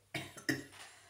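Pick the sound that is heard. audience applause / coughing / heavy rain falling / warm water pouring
coughing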